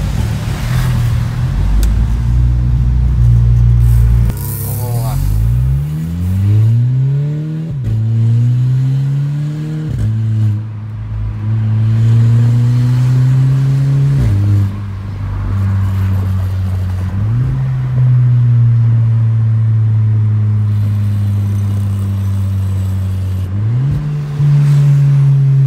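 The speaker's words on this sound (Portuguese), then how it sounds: "Vou dar uma acelerada ali pra mostrar pra vocês a troca de marcha." A VW Jetta TSI 2.0 fitted with an exhaust diffuser revs hard, its deep droning exhaust rising in pitch and dropping sharply at each DSG gear change, repeated several times, loud and close with no talk.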